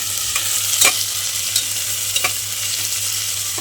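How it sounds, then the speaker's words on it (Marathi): Chopped onion fries in a pan, a dense steady sizzle broken by several sharp scrapes of a spoon stirring, close and clear, with a faint low hum beneath and no speech. "कांदा लालसर भाजून झालाय"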